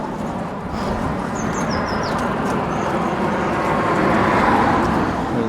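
Road traffic rushes past on a Spanish coastal road near Cabopino, Marbella, behind an Armco barrier, forming a steady loud roar that swells slightly, with faint bird chirps above it and no talking.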